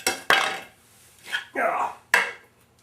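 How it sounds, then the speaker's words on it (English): Knife chopping red onions and bacon on a cutting board, a few sharp, separate thwacks spaced irregularly with short quiet gaps between them, close up and fairly loud. "Chop up the onions first, okay?"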